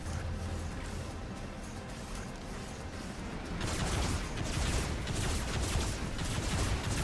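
Dense, continuous gunfire in the robot combat game Robocraft, a rough crackling barrage that grows louder and harsher midway and keeps hammering, with no voices over it.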